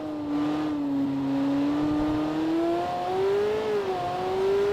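A car in the BeamNG driving game slows and drives on, its engine whine sliding down and climbing again in pitch as it brakes and pulls away, steady and close with no talk.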